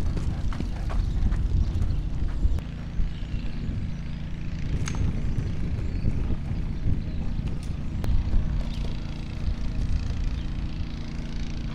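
A spirited horse's hooves clip-clopping steadily on hard ground for about twelve seconds, a dense, continuous patter under a broad outdoor rumble.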